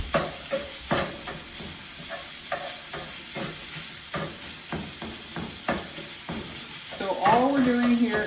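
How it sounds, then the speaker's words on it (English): Sausage meat browning in a pan, a steady sizzle punctuated by regular scraping and knocking strokes as it is broken up and stirred, close, with a tonal squeak or chirp near the end. "all we're doing here is browning the meat till it's cooked through"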